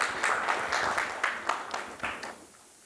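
Audience applause after a conference talk at ad:tech Mumbai 2019, a thin scattering of claps from a small portion of the room, fading quickly from a brief burst into sparse, faint pats.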